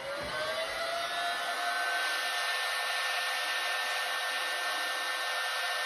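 A heat gun blowing continuously to shrink black heat shrink tubing onto a wire during a fridge fit-out in a Ford Transit Custom camper, a steady close whooshing roar with a rising whine, no voices.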